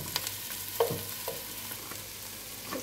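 Onions frying in a pan for seeraga samba chicken dum biryani: a soft, steady sizzle with a few light knocks of a spoon as they are stirred.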